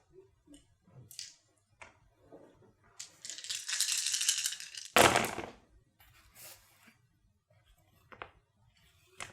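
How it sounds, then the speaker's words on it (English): A big handful of dice clatters and rattles across a tabletop for several seconds, ending in a sharp loud spill, followed by a few scattered clicks and taps, close with no talking. "shit ton of dice get rolled"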